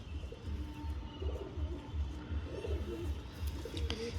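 Pigeons coo close by in soft, repeated low throaty pulses over a steady background murmur.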